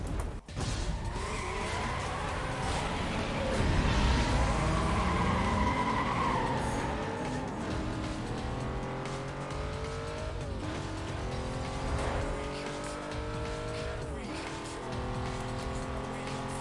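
Race cars skid and squeal their tires through a lap knockout race in the 2005 video game Need for Speed: Most Wanted, with a steady engine roar underneath and rising and falling tire screeches throughout.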